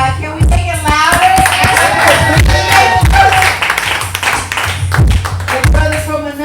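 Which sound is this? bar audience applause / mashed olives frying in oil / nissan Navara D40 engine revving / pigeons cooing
bar audience applause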